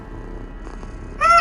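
Near silence, then a short electronic meow-like chirp from the Talking Angela mobile game rises sharply at the end, thin and synthetic.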